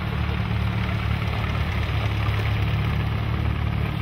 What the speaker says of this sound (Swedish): Den gröna John Deere BR körs av Anna Lindeborg, 15 år.